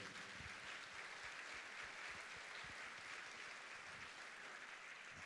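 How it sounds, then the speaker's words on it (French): An audience applauds the public relations team and ushers at a theatre's 2018–2019 season presentation, a steady, even wash of many hands clapping that holds for the whole stretch, heard faint and somewhat distant. "on peut applaudir l'équipe des relations publiques et des ouvreurs."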